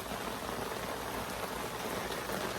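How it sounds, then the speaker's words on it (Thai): Rain falls steadily outdoors, a dense continuous patter of drops on surfaces with no voices. "Raining."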